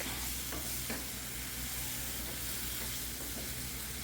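Tomato paste and ginger-garlic paste fry in a pan for a potato-tomato curry, giving a close, loud, continuous sizzle with a few soft stirring scrapes and no voices.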